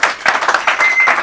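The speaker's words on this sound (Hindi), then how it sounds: "हाँ, ताली आवाज़ इसके लिए" A brief burst of quick, loud hand clapping from a small group, dense and close, lasting only about a second.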